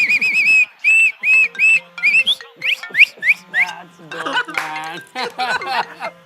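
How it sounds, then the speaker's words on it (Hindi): A whistle is blown in a quick series of short, shrill toots, some bending in pitch. Laughter and voices can be heard near the end. "मुझे सीटी बजानी भी आती है। दिखाऊं?"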